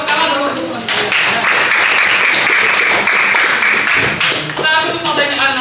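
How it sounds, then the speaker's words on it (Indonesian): Classroom applause for classmates, loud and close, a dense burst of many hands clapping that holds for several seconds before trailing off. "Tepuk tangan dulu untuk teman-teman"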